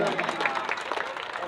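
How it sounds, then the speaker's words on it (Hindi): An audience at a Chhath puja gathering claps in welcome for arriving guests, a brief burst of scattered applause under an ongoing voice. "आप एक जोरदार ताली से स्वागत"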